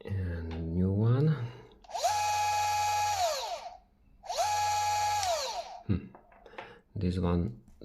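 A Bafang M560 e-bike mid-drive motor on FC 2.0 firmware, run in two whirring bursts of about a second each that rise in pitch and then wind down, with someone talking before, between and after them.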